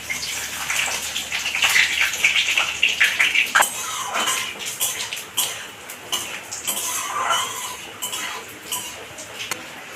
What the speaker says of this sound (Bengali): তেলের মধ্যে আমি ফোড়ন দিব গোটা শুকনো লঙ্কা, গোটা জিরে, তেজপাতা আর গোটা গরম মশলা